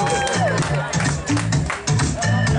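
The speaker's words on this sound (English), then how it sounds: "A big applause for him." A crowd applauds and cheers at a lively Halloween street event in Cozumel, clapping mixed with loud babble and music, steady and close.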